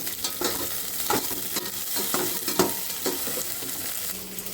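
Chopped capsicum and ginger sauté in a hot pan: a continuous crackling sizzle broken by repeated spatula scrapes and stirs, close and fairly loud, with no voices.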